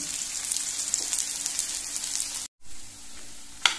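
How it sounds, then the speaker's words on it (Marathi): Chicken fries in oil in a pan over a low gas flame, making a continuous soft sizzle with faint crackles that cuts out briefly and then resumes. "आनी आतां हे भाजूनी बरें बारीक गॅसीर पयलीं भाजूनी, म्हणजे ते शिजतले न्ही म्हणून।"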